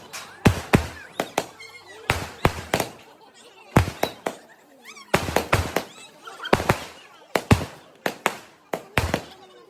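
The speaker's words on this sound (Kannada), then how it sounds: "ಅದಾದ ಇವಾಗ ಮತ್ತೆ ಪಟಾಕಿನ ಹೊಡೆಯೋದಕ್ಕೆ ಸ್ಟಾರ್ಟ್ ಮಾಡಿದ್ರು" Firecrackers go off at a house-warming ceremony in a string of sharp, loud bursts, some single and some in rapid clusters. The bangs fall irregularly, with short quiet gaps between them.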